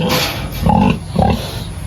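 Pigs on a farm grunt and oink in two short, loud bursts close by, with a steady background hum between them.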